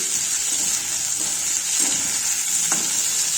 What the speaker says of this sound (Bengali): এবার আমি এটা আলু আর টমেটোটাও দিয়ে দিয়েছি।